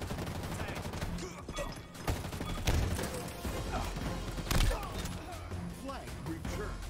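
Gunfire in a Halo Infinite multiplayer match, with bursts of shots and sharp impacts over a busy, loud battle din, while a voice talks over the action.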